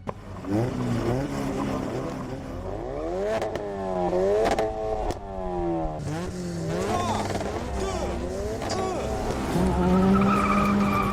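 Cars launch hard at a race start, engines revving up through rising gear changes and tires squealing, loud and close, with a voice speaking over part of it.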